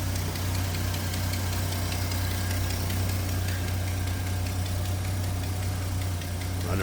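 A 1951 Studebaker Champion four-door sedan idles steadily and smoothly, a low even engine hum with a faint mechanical tick running throughout, no voices present.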